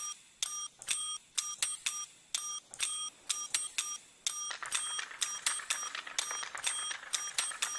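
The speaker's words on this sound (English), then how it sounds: "When Kermit and Peach make the snack bell musical." A small snack bell is struck repeatedly in a quick musical rhythm, bright metallic dings in short bursts and runs, tapping out a tune, clear and close with nothing else behind it.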